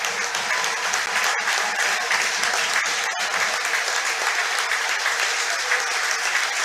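Steady, dense applause from a football crowd at a Finn Harps versus Waterford match as a Waterford player departs, sustained and fairly loud throughout with a couple of sharper claps standing out.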